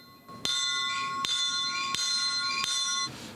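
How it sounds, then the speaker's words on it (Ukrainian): A ceremonial bell at a train departure rings out in four evenly spaced, bright metallic strikes, each note ringing on clearly before the next hit. "Вони символічно вдарили у дзвін перед початком руху поїзда."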